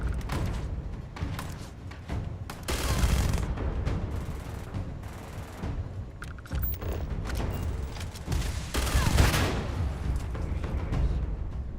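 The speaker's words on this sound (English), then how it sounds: "I'm not sure where I'm shooting." Gunfire in a video game: repeated bursts of shots and thumping impacts across the whole stretch, loud and dense with short pauses, no talking.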